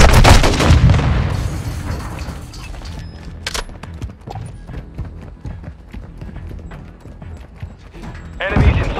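Semtex grenade blasts and gunfire during a Hardpoint match of Modern Warfare II on the Santa Sena Border Crossing map, with a loud burst opening and another near the end, dense crackling combat between.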